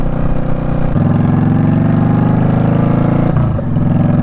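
Harley-Davidson Road Glide motorcycle engine on the road, a loud, steady low rumble that shifts pitch as the throttle changes, then eases briefly near the end, with no talking.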